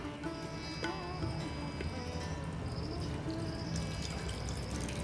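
Lentil cooking water pours steadily into a pot, a continuous splashing rush with no talking.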